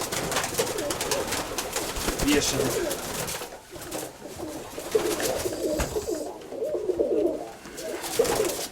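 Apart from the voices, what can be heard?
pigeons cooing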